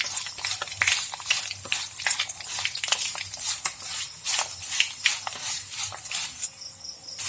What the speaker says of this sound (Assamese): মিঠিখিনি ইয়াতে ভাজি লওঁ।